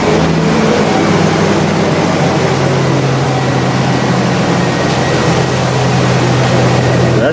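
A truck engine with a full exhaust idles steadily with a deep, throaty rumble, loud and close, holding an even drone throughout with no voices.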